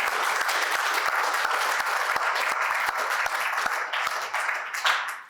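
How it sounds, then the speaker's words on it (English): Steady, dense applause from an audience at a university launch event for a WHO collaborating centre on TB research, with close sharp claps and no voices over it, thinning slightly near the end. "I think we want a round of applause."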